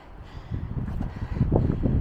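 Gusty wind on a Pacific Crest Trail hike buffeting the microphone in low rumbling bursts, growing stronger toward the end, with no speech.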